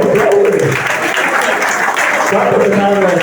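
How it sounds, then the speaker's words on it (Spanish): A church congregation applauds during a Spanish-language sermon, loud dense clapping from a crowd filling the room nearby, sustained throughout with a voice speaking over it. "Tú estás vivo, aplaude."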